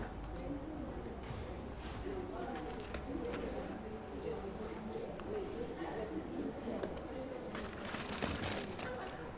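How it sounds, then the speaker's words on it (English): A pigeon coos softly in a classroom during a science lesson, partly buried under steady background noise and people talking nearby. "That's Eugene the pigeon"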